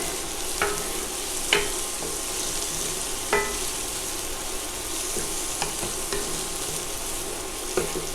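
Minced red bell peppers and a small jalapeno sizzle steadily in a hot pan, a constant frying hiss broken by several sharp scrapes and knocks of stirring.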